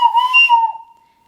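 An overblown ocarina note pushed with too much air, a shrill, breathy, slightly wavering whistle tone that holds for under a second before fading away.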